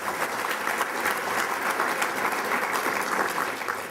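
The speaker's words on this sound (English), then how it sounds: "Just give him a round of applause" Audience applause fills a room at a Torrance, California State of the City event, a steady dense clapping that holds at even loudness for the whole stretch with no voices on top.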